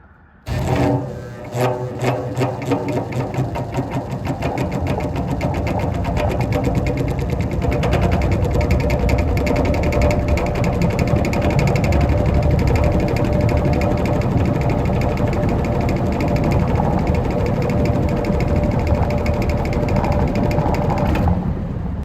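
A vintage box fan starts up on low speed, its motor and blades rising from a few uneven thumps into a steady, loud whirring hum with a rattly mechanical vibration that holds close and constant.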